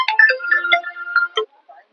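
A mobile phone rings with a melodic electronic ringtone, a quick run of bright tones that plays clearly for about a second and a half and then stops, leaving near silence.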